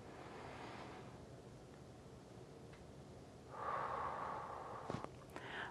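Slow, deep breaths are drawn during a yoga session, a soft airy rush of inhaling and exhaling over faint background hiss, close and quiet, ending in a brief snort-like exhale.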